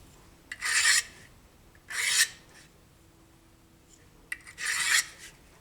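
A knife edge stroked on a Harbor Freight diamond hone block to remove the burr: three brief, quiet, raspy scraping strokes spaced a second or more apart, with near silence between them.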